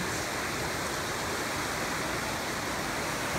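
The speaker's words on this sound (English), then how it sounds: "There's the river." A river flowing outdoors, a loud, steady broadband rush of moving water that fills the whole stretch without letting up, with no voices over it.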